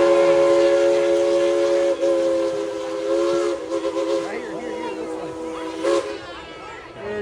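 A steam locomotive at Tweetsie Railroad sounds a long, loud whistle for about three and a half seconds, then several shorter blasts follow over a steady hiss of steam.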